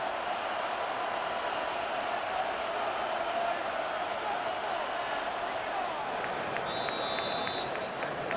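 Stadium crowd in Madden 26 roars and applauds continuously at a road AFC Championship game, Patriots at Broncos, a dense wall of cheering with a faint whistle-like tone near the end.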